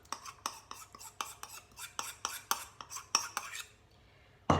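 Whisk or spoon clinking rhythmically against a bowl while an egg and sugar are mixed together, about a dozen quick scraping taps at an even pace, close and clear, ending in a brief pause and one final knock.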